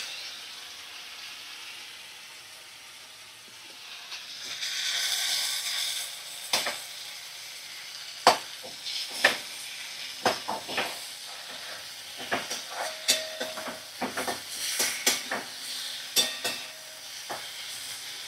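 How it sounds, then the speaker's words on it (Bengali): Food fries in a pan with green chillies, a soft sizzle rising partway through, then scraping stirs knock and clatter in an irregular rhythm over the steady hiss. "দেখো ভালো করে ভাজা করে নিচ্ছি, আর একটু কাঁচা লঙ্কা দিয়ে দেবো এতে আমি।"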